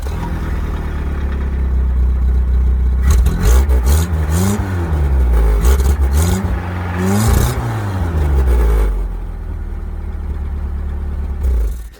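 A worn, off-road-used Suzuki Samurai on 35-inch tires sits idling at a low rumble, then revs up several times in rising and falling surges, loud and close, before settling back to idle.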